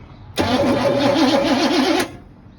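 A Chevrolet C10 short-bed service truck engine starting for the first time in years: a loud burst of cranking that catches and runs rough for about a second and a half, then cuts off abruptly.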